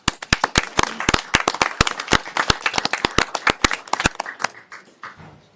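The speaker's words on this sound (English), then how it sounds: "a round of applause needs to go out to them as well" Committee members at a city council meeting get a round of applause: close, dense clapping from a room of hands, loud and steady for about four seconds before thinning out into a few scattered claps.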